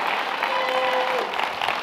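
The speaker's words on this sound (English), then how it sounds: "Give the Lord a hand clap." A church congregation breaks into a brief, dense round of hand clapping during a sermon, with a sustained voice tone briefly audible in the mix.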